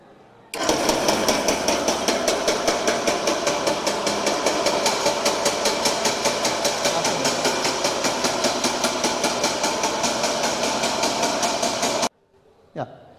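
A motorized mechanical soil sieve shaker for geotechnical sieve analysis starts up and runs loudly for about eleven seconds, giving a fast, even rattling tap, then cuts off abruptly and leaves near silence.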